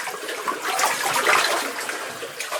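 A steady rush of water runs through an underground passage, a continuous hissing flow that stays close and even throughout, with no voices.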